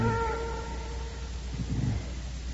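Cats meowing and caterwauling in a radio mystery drama set in a dusty, shut-up room of a castle, a couple of close plaintive cries over a constant low background hum.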